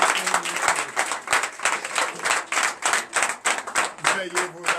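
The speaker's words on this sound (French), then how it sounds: "Donnez l'acclamation dessus" A church congregation at a Sunday worship service claps in a strong, rhythmic pattern of loud, close claps, with voices mixed in underneath.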